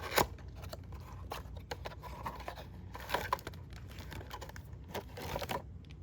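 Close, fairly quiet crinkling and tearing of plastic packaging as a Beyblade toy, Wolborg 3 Uriel, is unboxed, with irregular rustles, snips and sharp crackles throughout.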